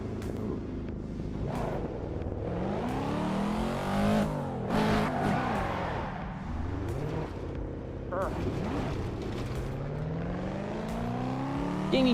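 A car engine driving in an online racing simulator game, with a Nissan and a Supra among the available cars, revving and shifting continuously with rising and falling pitch, loud and close throughout, with occasional sharp bursts.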